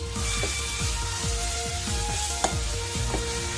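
Ground raw tamarind chutney paste sizzles and hisses as it is stirred in a hot pan just off the stove, with close, scraping stirring strokes repeating over steady frying noise.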